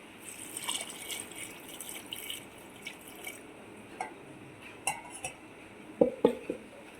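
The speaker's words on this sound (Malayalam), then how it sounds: "വെള്ളം ഒഴിച്ചു കൊടുക്കുക." Water pours into a cooking pot with turmeric and Kashmiri chili powder for a traditional pumpkin and cowpea koottu curry, with faint splashing and light clinks of metal utensils that grow sharper near the end.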